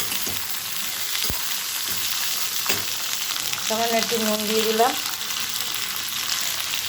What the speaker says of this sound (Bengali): এবার এগুলো আমি নুন হলুদ দিয়ে ভাজবো